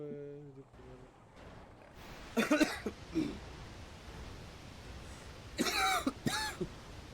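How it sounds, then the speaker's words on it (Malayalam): A person with a lingering fever cough clears the throat and coughs in two rough clusters, close and fairly loud, with a brief voiced sound at the start. "ഈ ചുമ ഒരു തരത്തിൽ പോണില്ല"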